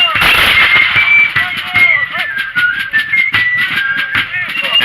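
Massed musket volleys from British and American lines at a battle re-enactment at Fort George, with repeated sharp reports crackling steadily and overlapping, some near and some distant, under a continuous background of crowd noise and voices.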